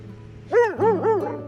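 A dog at a campsite lets out three quick, close barks in a rising-and-falling yipping pattern against quiet background hum.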